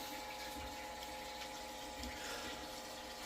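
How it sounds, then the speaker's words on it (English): Water being poured onto a potted jade plant, a soft continuous trickle and splash heard close up and fairly quiet, with faint voice-like murmur underneath. "the jade got a little bit thirsty, so I'm giving it some more water"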